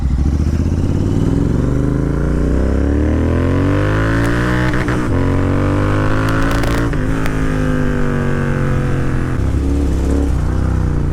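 Royal Enfield GT 650 twin motorcycle riding after a clutch plate repair, its engine droning loudly and steadily with rising and falling revs as it changes gears, close to the rider over constant wind rush.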